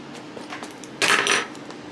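Scissors snipping loose thread stragglers off an embroidered baby blanket, faint light clicks followed by one brighter metallic snip, close and quiet with no talk.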